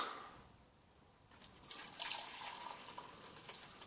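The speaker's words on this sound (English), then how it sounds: "let's pour some hot water into this and see what happens" Hot water poured into powdered coffee from a 1987 US MRE, a soft, close trickle and splash that starts after a quiet moment and rises to a steady faint pour, with no talk.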